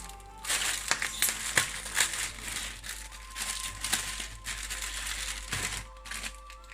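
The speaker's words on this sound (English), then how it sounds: "I'm going to get our seasoning packets out of the ramen package first." Crinkly plastic packaging rustles and crackles in short bursts as seasoning packets are pulled out of an instant ramen package, fairly close and loud, with no talking.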